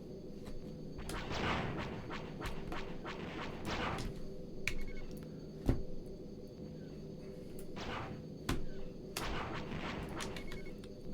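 Laser cannon fire in the Star Wars X-Wing space combat game: bursts of blasts with bright zapping streaks repeat every few seconds over a steady engine drone, with occasional sharper hits.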